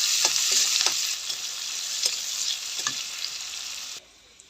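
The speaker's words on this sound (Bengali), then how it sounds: "এবার ওই একই তেলের মধ্যে এখানে পেঁয়াজ, কয়েকটা রসুনের কোয়া আর শুকনো মরিচ ভেজে নেব।" A close, steady sizzle of onions, garlic cloves and dried chilies frying in oil, with occasional spatula stirs and scrapes, then it cuts out abruptly near the end.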